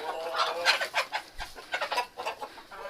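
Hens in a farmyard barn clucking steadily at close range, a run of rhythmic, overlapping clucks and short calls without any talking.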